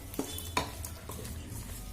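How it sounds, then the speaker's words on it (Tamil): Tomatoes being turned in a pot with a little salt, with a couple of sharp spoon scrapes against the metal over a soft, steady background. "இப்போ இதை பிரட்டி விட்டு தக்காளி நல்லா மசிய வேகட்டுங்க"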